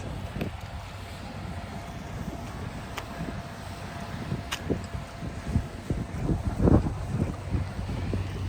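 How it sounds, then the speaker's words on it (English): A Disney World ferry boat between Epcot and Hollywood Studios moves across open water under steady wind buffeting the microphone, with occasional low thumps and splashes growing slightly louder. "This is one of the boats you can take from Hollywood Studios or from the resorts"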